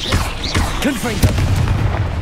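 Confringo explosive spell blast in the Hogwarts Legacy video game, a low heavy boom with rumbling tail, close and loud, with a voice speaking over the start.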